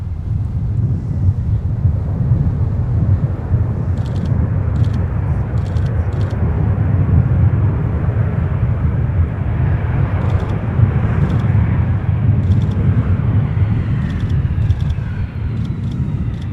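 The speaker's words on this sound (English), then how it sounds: "It's a Delta 717 that is sneaking in ahead of it." A Delta Boeing 717 jet arriving at Minneapolis–Saint Paul airport makes a steady, moderately loud rumble mixed with wind buffeting, with brief ticking clicks now and then.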